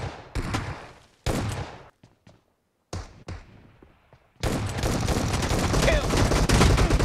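S12K shotgun fire in PUBG Mobile, several loud separate blasts with quiet gaps, then a dense stretch of rapid gunfire that carries on to the end.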